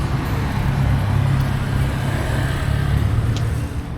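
A car rolls past on a busy street at a Langkawi night market, a loud steady engine rumble with road noise holding throughout and no talking.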